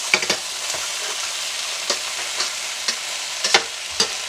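Cooked beef for tomato beef being scraped from a hot pan onto a clean plate, a steady sizzle under scattered sharp scrapes and clinks of the utensil, close and without talking.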